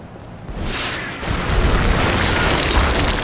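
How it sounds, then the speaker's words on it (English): A grenade explosion in XCOM: Enemy Unknown gives a loud, sustained, rumbling roar of broadband noise that swells and holds steady for several seconds, close and alone with no talk. "And the explosion might have killed him."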